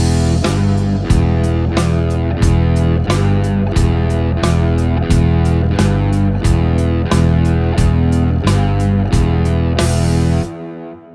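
Electric guitar plays a rock lesson example for beginners, steady strummed chords hit in a regular pulse with a driving, slightly distorted tone, loud and close, ringing out before cutting off near the end.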